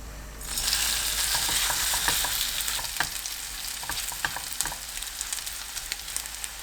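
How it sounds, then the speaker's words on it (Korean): Batter for a mustard green pancake hits an oiled pan and fries with a loud, bright sizzle, then keeps crackling steadily, punctuated by scraping and tapping from the spatula, close up and without voices. "식용유 두른팬에 노릇하게 붙여주세요."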